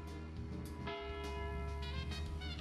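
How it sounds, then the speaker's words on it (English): Town church bells ring out for seven in the morning in the game Deadly Premonition, a steady resonant peal with sustained harmonic tones over a low ambient hum, continuous through the moment with no talk. "Oh, the town bells go off for 7 a.m."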